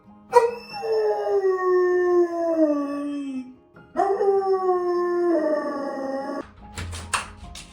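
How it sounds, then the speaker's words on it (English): A rescue dog with separation anxiety howls in two long, drawn-out wails that slide downward in pitch, separated by a short pause, followed by a few quick whimpering yips. "You can see how badly she would howl when we left the house."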